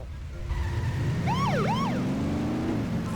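A police car siren in The Simpsons Hit & Run wails with rising and falling sweeps over a low engine rumble that climbs in pitch, loud and close with no talk.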